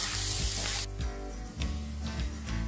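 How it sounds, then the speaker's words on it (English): Chopped onions and green chilies frying in a pan with cashews, a dense continuous sizzle with a few sharp ticks and a brief dip in the hiss. "add the chopped onions and green chilies. So we need to roast the onions until they are golden brown"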